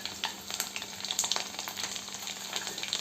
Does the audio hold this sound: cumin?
yes